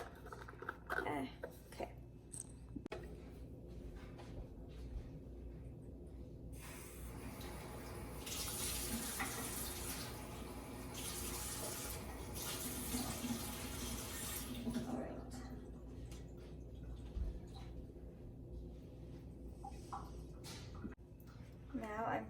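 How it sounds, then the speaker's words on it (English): A quarter cup of water being poured into a bowl or shampoo bottle gives a long, soft, splashy wash of sound, with a voice talking through much of it. "Now I'm putting my 1/4 of a cup water into my, bowl or shampoo bottle"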